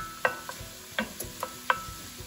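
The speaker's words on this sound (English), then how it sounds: "I'm gonna turn the heat back up a little bit and get the onions roasted." Onions roasting in butter in a pan over raised heat, a low sizzle beneath a few sharp metallic clicks and scrapes of a utensil, spaced irregularly and close by.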